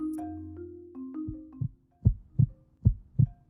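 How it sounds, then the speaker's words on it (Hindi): A fast heartbeat, as after running, comes in as a few deep, thudding double beats at a steady quick pace, following a short stretch of low sustained tones. "दौड़ लगाने के बाद तेजी से धड़कते दिल की आवाज तुमने जरूर सुनी होगी।"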